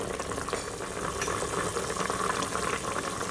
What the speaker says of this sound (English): So now I'm going to reduce the stock by half, and then I'm going to thicken it.